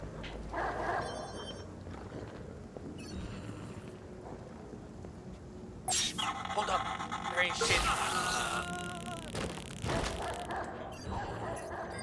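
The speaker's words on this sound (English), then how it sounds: "There's two dogs?" Dogs bark in the video game Watch Dogs 2, with repeated yips and whimpers mixed into busy game sound and louder bursts of action, while a voice talks over parts of it.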